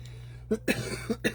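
A person coughs and clears their throat in a few short, close bursts, with no talk in between.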